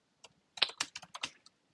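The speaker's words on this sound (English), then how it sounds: "My typing skills are not looking so sharp tonight." Fingers type on a computer keyboard in a short irregular burst of about eight crisp, close keystrokes, separated by brief pauses and with no talk.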